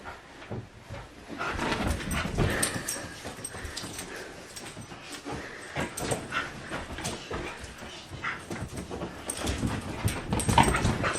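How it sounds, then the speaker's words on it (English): A dog whimpers and whines in restless bursts, with yips and shuffling noises throughout, fairly close and continuous. "Don't you dare bark, Anakin."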